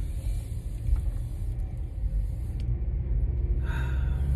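Low, steady road rumble from inside a car driving in the early morning, a continuous droning hum with no speech, holding at a fairly even, subdued level throughout.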